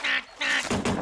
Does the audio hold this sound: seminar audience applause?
no